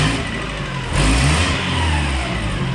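Mazda Miata engine, 1.6L/1.8L, running again after a crankshaft keyway repair, revving up from idle with a rising rumble and then holding a loud, steady rev close by.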